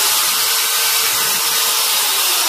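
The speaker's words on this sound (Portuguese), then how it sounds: "eu faço uns furos com uma furadeira, uma broca de madeira de 6 milímetros" An electric drill with a 6 mm wood bit bores into wood, giving a loud, steady, close whirring grind that holds unbroken throughout.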